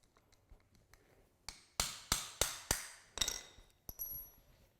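A hole punch is hammered to drive the axle out of a Pelican 1615 case wheel, working from the inside outward on the ground: a few faint taps, then a run of about six sharp metallic strikes, close by with a ringing ping.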